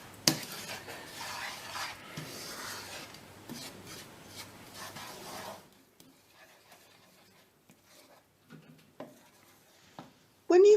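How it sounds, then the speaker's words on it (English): A spoon scrapes and rubs melting sugar around a pan, a continuous close gritty stirring for several seconds, then quieter scattered scrapes and taps, no talking. "As it starts to melt, stir it carefully around the pan so that it doesn't burn on the bottom."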